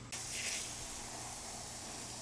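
A garden hose sprays a steady, soft hiss onto a pool filter cartridge from an above-ground pool, heard alone at low volume.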